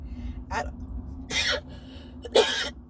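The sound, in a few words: coughing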